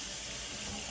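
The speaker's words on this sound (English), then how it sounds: "we're gonna get hot water as best as we can" A kitchen tap runs steadily as hot water fills a hot pot for elk stew with root vegetables, a close, even hiss of flowing water with no talk.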